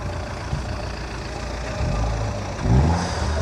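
An auction-bought car on a track revs up through its loud aftermarket exhaust, a steady rumble that swells into a couple of louder throttle blips toward the end.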